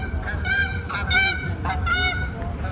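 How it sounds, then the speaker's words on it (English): Geese honk repeatedly in overlapping bursts, fairly loud and close, over a steady low rumble of background noise, with no talking. "okay, birds, okay, we understand that you're flying, but do you have to make all that noise?"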